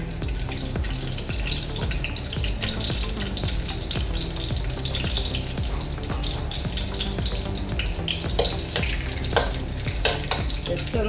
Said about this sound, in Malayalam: കാഷ്നട്ട് വറുത്തെടുക്കാം.